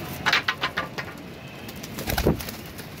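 Pigeons coo in a series of soft, throaty pulses, close by, with a louder burst of cooing near the end.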